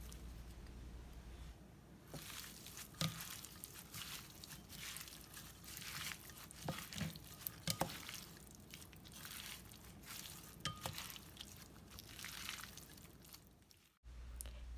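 Thai spicy grilled beef salad with scallion, cilantro, mint and toasted rice powder being tossed and mixed by hand, giving soft wet squishing and light clicking sounds that continue steadily and fairly quietly throughout, with no talking.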